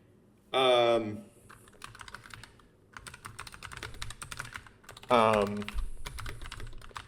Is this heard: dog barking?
no